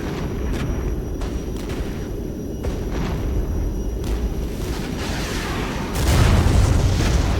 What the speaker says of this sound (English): Hornet rockets. And bombs.